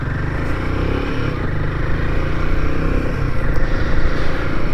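A Royal Enfield Himalayan 450 motorcycle is ridden on a road near the Gosport coastline, its engine a loud, steady, close rumble under wind rush that swells slightly toward the end, with no voices.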